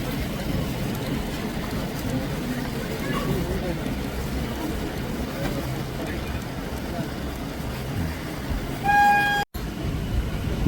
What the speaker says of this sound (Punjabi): ਗਿੱਲ ਰੇਲਵੇ ਸਟੇਸ਼ਨ ਤੋਂ ਆਪਣੀ ਟ੍ਰੇਨ ਜਿਹੜੀ ਆ ਚੱਲ ਪਈ ਆ